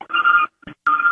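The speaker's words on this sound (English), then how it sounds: "Oh, your phone's ringing." A phone ringtone sounds as two sustained electronic tone bursts separated by a short gap, with a brief blip between them, fairly loud and close with no talking over it.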